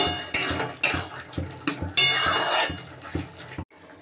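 Spoon stirring Pui Metuli, a Bengali dish of Malabar spinach, with sugar and ground black pepper in a metal pan, repeated close scraping and clanking strokes in an uneven rhythm over a light sizzle, ending abruptly.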